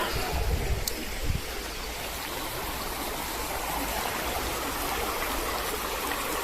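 A river stream in Rivelin Valley rushes steadily past, a loud continuous wash of flowing water heard up close, with a couple of faint knocks early on and no talking.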